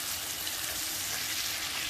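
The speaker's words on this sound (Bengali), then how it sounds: "আমি আর 3-4 মিনিট এগুলোকে আরও একটু লালচে করে কষিয়ে নিব।" Tomatoes and potatoes fry gently in oil over low heat, giving a steady, even sizzle that stays close and constant with no talking.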